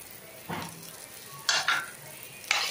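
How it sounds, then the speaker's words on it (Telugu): Chopped ginger with cumin and coriander fries in a pan, giving a low steady sizzle broken by a few short bursts of stirring and spoon scrapes, close by and with no talking. "తరిగిన అల్లం ముక్కలు అనేది వేసుకుంటున్నాను. వేసుకుని ఫ్రై చేసుకుంటున్నాను ఇప్పుడు."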